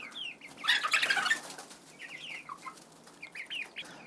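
Cockerels on a farm cluck and give short squawking calls at moderate distance, with a brief burst of wing flapping early on, then scattered calls continuing, no talking.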